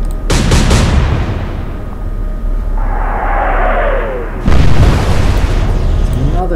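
Naval guns fire in the Atlantic Fleet video game: a heavy booming blast at the start, a whistling shell in flight, then another loud deep impact, all close and loud over a steady low rumble.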